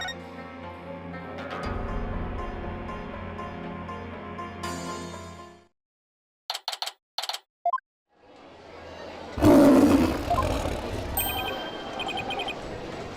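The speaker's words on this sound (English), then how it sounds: "It's the cry of a local bird known as warbot" The warbot bird's loud, lion-like roaring cry in the Phoenix Wright: Ace Attorney – Spirit of Justice video game bursts in suddenly after game music, a moment of silence and a few short text blips, and it dominates the end.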